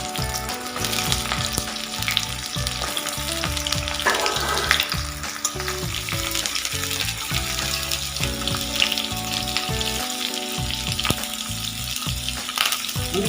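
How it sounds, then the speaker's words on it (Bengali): Carrots, potatoes, drumsticks and pointed gourd fry in hot oil for a vegetarian rasa, producing a loud, steady sizzle with crackling spatters and occasional stirring clinks, with no voices. "আমি গাজর, আলু, ডাঁটা আর পটল সব ভেজে নিচ্ছি।"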